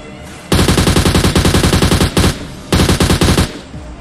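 Loud, close automatic gunfire in PUBG Mobile comes as a steady rapid burst of about one and a half seconds, then a short pause, then a second burst of under a second.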